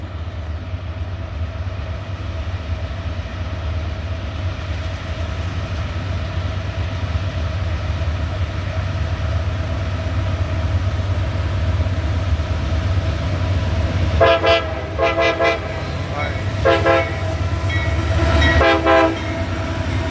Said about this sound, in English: auto wreck train, southbound, headed to Atlanta, 2 engines on the head end